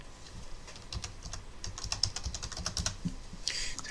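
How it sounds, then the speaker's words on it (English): Rapid clicking of keys as a search term is typed on a computer keyboard, close and fairly quiet, with an uneven rhythm of taps and a short flurry near the end. "So what we're going to do now is we will type in a search term."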